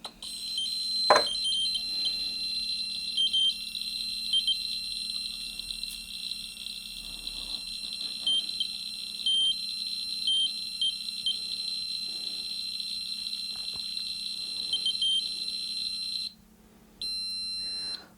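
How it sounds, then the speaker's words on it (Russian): An ECO-1 (DRGB-01) radiation dosimeter held near a strong radiation source gives out a steady, continuous high-pitched electronic tone. It sounds close and fairly loud and holds for most of the stretch, then breaks into short bursts near the end. "дозиметр хоть и издает звуковые сигналы"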